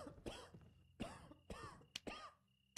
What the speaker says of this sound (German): Aber das Husten hört man leider immer noch.